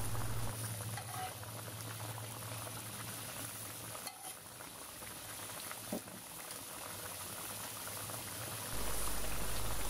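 Mustard gravy with pre-fried pabda fish simmers in a pan, making a soft, steady bubbling at low volume with no talking.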